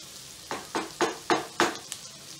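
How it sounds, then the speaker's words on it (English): Onions frying in a pan until golden brown are stirred in five evenly spaced sizzling swooshes, each a short loud burst over a quiet frying hiss, close up and without speech. "ensure that the onions get to a golden brown."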